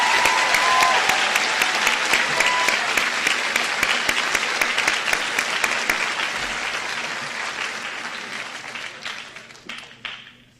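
Sustained audience applause for the speakers at a senior oratorical contest: dense, steady clapping fills the room from the start and slowly thins and fades toward the end.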